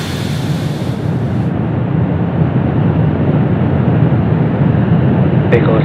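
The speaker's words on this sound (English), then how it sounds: "Ignition and liftoff." A SpaceX Falcon 9 lifts off carrying Starlink V2 Mini satellites, producing a loud, continuous, deep rumbling roar that stays steady and heavy throughout.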